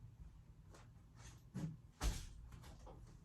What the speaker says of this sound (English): We're gonna close this door